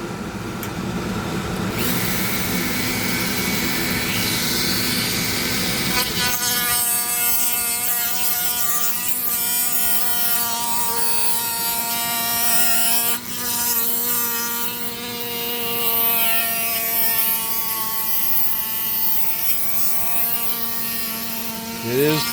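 A Dremel rotary tool sands a purple heart wood ring, giving a loud, steady high-pitched whine that holds through the whole stretch with slight pitch wavers and one brief dip.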